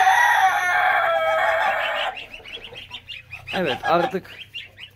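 Seven young goose goslings in a new enclosure chirp and peep in a dense, close chorus for about two seconds, then someone talks over softer peeping.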